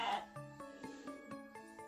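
Sheep bleating several times in quick succession, faint and fairly distant, with wavering calls overlapping against a quiet background.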